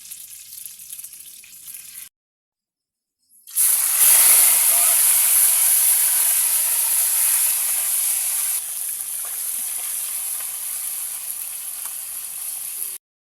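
Tilapia hits hot oil in a frying pan, bursting into a loud, continuous sizzle and hiss that holds steady for several seconds after a brief quiet gap, then cuts off.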